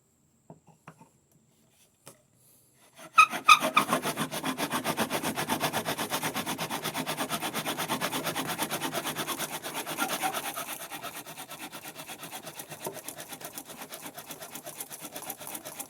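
A wooden spindle grinds steadily into a wooden fireboard in bushcraft friction-fire work, a continuous close rasping rub that starts after a few quiet taps and carries on evenly, easing slightly toward the end.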